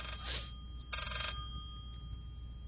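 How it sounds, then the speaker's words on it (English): A telephone rings in the horror video game Layers of Fear, two electronic bell bursts separated by a short gap, moderately loud over a quiet low hum. "The phone is ringing again."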